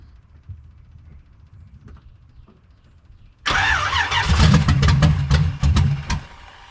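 A car engine in a project garage with a Fiero, Camaro and F350 cranks after a few faint clicks, then catches and runs rough and loud, the revs surging and stumbling while the gas pedal is worked.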